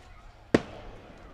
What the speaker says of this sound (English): Somebody's setting off some fireworks.